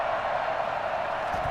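Steady stadium crowd roar from a Madden 21 American football game, a continuous broadband wash of cheering fans holding at an even level with no breaks, the crowd up on its feet late in a close game.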